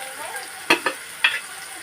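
Onion cooking in a pan with a little salt gives a soft background sizzle, broken by three sharp scrapes or taps of a spoon stirring against the pan.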